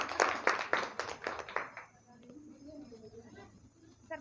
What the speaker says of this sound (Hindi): तो लड़कियां तालियां बजाओ जोर से।